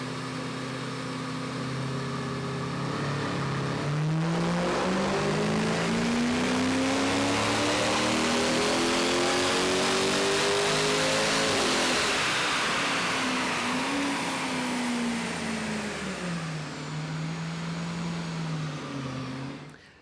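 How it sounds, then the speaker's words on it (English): A 2021 Range Rover Sport with a 5-litre V8 on a dyno, loud engine note climbing steadily in pitch through a long pull, peaking near mid-run, then easing back and settling toward idle as it fades out. "we'll run it up on the dyno now and see exactly what it does"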